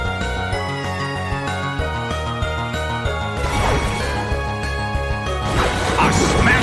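A heavy smashing hit lands in the Pokémon Battle Revolution Colosseum, a crashing impact over the game's looping battle music, followed by a brighter burst of effect noise.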